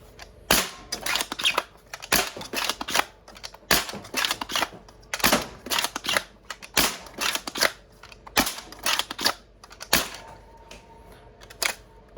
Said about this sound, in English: I'll go through the mag on this, and then I'll show you the other one